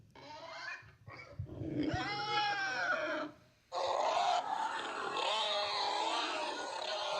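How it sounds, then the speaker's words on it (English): A pig squeal sound effect fired off a soundboard, loud and close, with harsh, wavering squeals and grunting bursts spread over several seconds, split by a short gap near the middle. "I got to get like a really good pig squeal on the soundboard."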